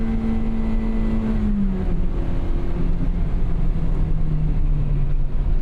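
A 1998 Acura Integra Type R DC2 with a 5-speed manual drives along with a loud, close engine drone whose pitch drops as it shifts, then settles into a steady cruise under constant road noise.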